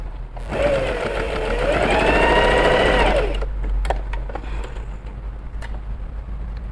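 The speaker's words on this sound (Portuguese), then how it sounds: "vou colocar essa minha tensão no outro número e vou fazer uma costura aqui pra vocês" A sewing machine stitches a seam after its thread tension is changed, a loud rising whirr of rapid needle strokes for about three seconds that then stops, followed by a few soft clicks and handling noises.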